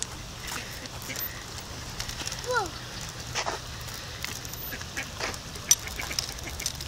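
Ducks quacking outdoors during mating season, males scuffling over a female, with scattered calls of moderate loudness over steady background noise and a few sharper squawks.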